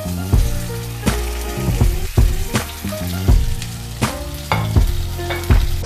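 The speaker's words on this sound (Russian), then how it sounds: "Стейк у нас шипит на сковороде" A steak sizzles in hot olive oil in a frying pan, a steady crackle broken by repeated ringing metallic knocks and scrapes roughly every half second, close and loud.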